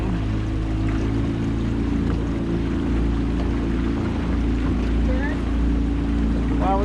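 A motorboat engine drones steadily and loudly during a boat ride, with water rushing and splashing against the hull and wind noise throughout.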